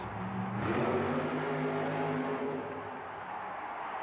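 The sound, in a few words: Ford-powered Thunderbird funny car drag run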